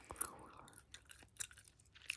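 Gum is chewed close to the mic, giving soft, irregular wet clicks and smacks at a slow, uneven rhythm, quiet and intimate, with no talking.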